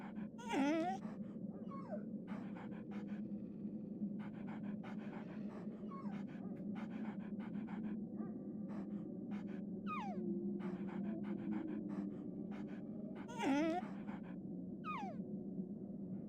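A dog pants steadily in a rapid rhythm of breaths throughout the scene in the Metal Gear Solid game, with occasional higher whines and a low background drone, no talking.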